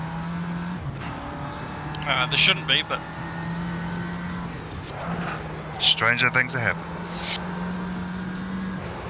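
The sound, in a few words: Ginetta G40 race car engine passing in video game AMS2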